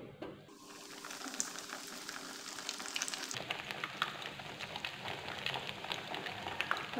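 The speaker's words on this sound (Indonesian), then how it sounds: "Kita goreng." Breaded katsu fried eggs sizzle in hot oil with a steady crackling hiss that grows louder and denser partway through, with no talk.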